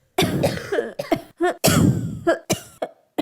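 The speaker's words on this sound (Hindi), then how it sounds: "मम्मा, कुकू भैया की खांसी अब कैसे ठीक होगी?" A cartoon character, a young bird, coughs in a run of harsh, repeated fits with brief pauses, close and loud, with throat-clearing rasps mixed in and no talking.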